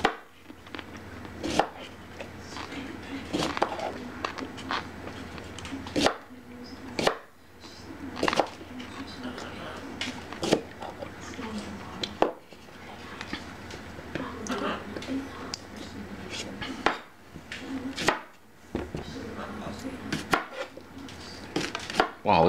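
A knife chops cucumbers on a cutting board for Ball dill pickles, making a steady run of sharp, close thuds with short pauses between bursts.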